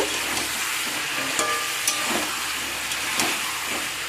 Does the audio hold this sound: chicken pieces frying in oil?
yes